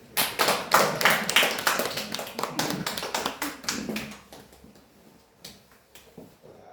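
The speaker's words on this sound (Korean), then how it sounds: "박수 한번 해주세요." Clapping from a congregation during a Korean church service, a burst of quick hand claps that is loud at first, thins out and fades to a few scattered claps near the end.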